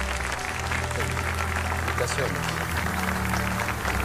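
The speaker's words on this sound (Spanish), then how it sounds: "Mira cómo todos te aplauden." A television talent show audience applauds a singer at a blind audition, the steady clapping and cheering filling the hall while someone speaks briefly over it.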